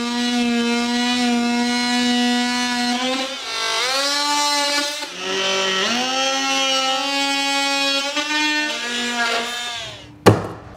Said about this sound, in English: just let the machine do the work, you can just plunge down